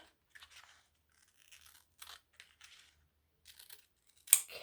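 Scissors snip through transfer paper in short, crisp bursts with pauses between cuts, close and fairly quiet, ending in one louder sharp snip.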